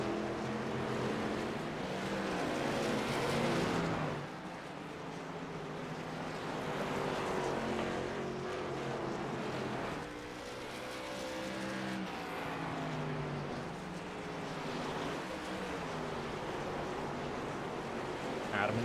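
Race cars lap the South Boston short track in the iRacing sim, their engines droning loudly and continuously, with pitches rising and falling as several cars run close together through the corners.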